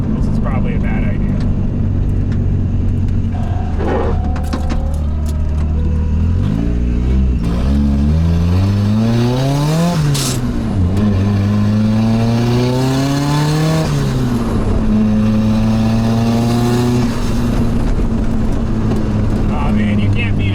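An LS V8-swapped Mazda RX-7 FC accelerates hard on a bumpy road, its engine note climbing through repeated rising sweeps with gear changes, loud and close from inside the car, with occasional voices over it.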